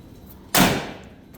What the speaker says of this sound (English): Door shuts like brand new.